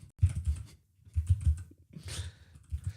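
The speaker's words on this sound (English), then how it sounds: "it's a little bit easier to type on this thing" Typing on a computer keyboard, quiet bursts of rapid key clicks in short runs with brief pauses between them.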